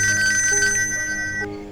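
A telephone rings as a call is placed in a Bhojpuri family drama film, a loud, steady electronic ringtone with sustained tones that shift pitch partway through, alone without talk.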